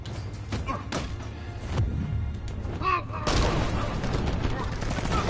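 Gunfire in the video game Batman: Arkham Knight, a muffled burst of shots and thuds, moderately loud and mixed with other game sounds and someone talking.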